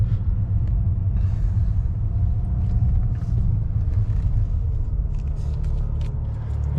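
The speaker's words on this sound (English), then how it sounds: "flat out sports mode acceleration" A BMW N54 Alpina accelerates flat out in sports mode with automatic shifting onto an on-ramp, giving a loud, continuous low engine rumble heard from inside the car, with no talking.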